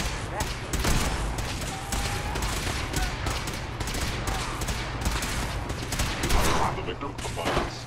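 Gunfire in the video game Fallout 4: rapid, dense bursts of shots and automatic fire rattle continuously at close range, with a game voice calling out over the shooting.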